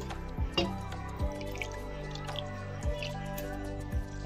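Water is added to a cooking pan of egg posto, giving a handful of distinct drips and small squishy splashes at irregular intervals over a quiet, low kitchen hum.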